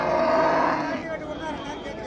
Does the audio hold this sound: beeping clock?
no